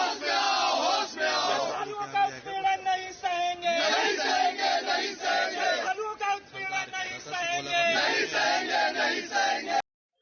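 A large crowd of pilgrims queuing for Chardham Yatra offline registration in Haridwar, a loud, dense mass of overlapping shouting voices and clamor, close and continuous before cutting off abruptly.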